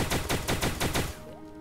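Shotgun blasts from the video game Starbound fire in a quick, even series of about six loud, close booms, then stop, leaving a faint tonal game sound fading out.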